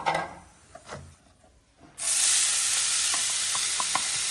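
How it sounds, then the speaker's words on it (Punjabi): Radish and ginger hit a hot pan for a home-cooked sabzi, a loud, steady sizzle bursting in after a moment of quieter stirring and scraping, then frying on close and unbroken with a few faint clicks. "ਇਹ ਪਾਤੀਆਂ ਮੂਲੀਆਂ ਤੇ ਅਦਰਕ"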